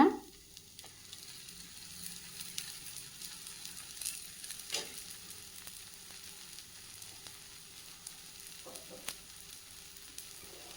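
Ragi adai frying in a little oil on a pan, a steady soft sizzle running throughout at low level, with a few faint clicks and scrapes, no voices.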